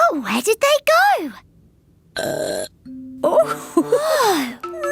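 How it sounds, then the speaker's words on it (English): A cartoon character lets out burps amid animated, excited voices in a children's cartoon, with loud bursty sounds standing out between the talking. "Your burps!"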